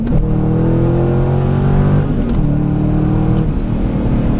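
Manual-transmission car downshifting through several gears, loud engine revs climbing and dropping with rev-matched blips between shifts, close and continuous, no talking.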